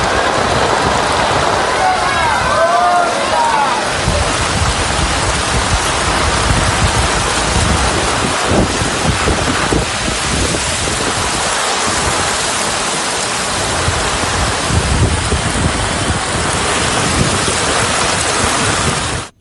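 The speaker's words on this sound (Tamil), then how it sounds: "சுமார் அரை மணி நேரத்திற்கு மேலாக பெய்த மழையால் மலை பாதையில் தண்ணீர் பெருக்கெடுத்து ஓடியது" Rainwater pours down a mountain road at Tirumala after a heavy downpour, making a loud, continuous rushing roar like a flooded stream that holds steady throughout.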